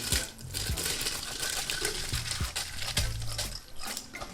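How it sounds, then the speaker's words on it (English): Soaked, washed rice is poured into a pot that held chicken, giving a close, steady crinkling, pattering rush of grains with small clinks against the metal, lasting throughout without talk. "now in that, we're gonna add in our rice. Carefully throw them."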